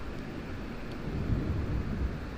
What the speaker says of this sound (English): That was a good one. Good thunder.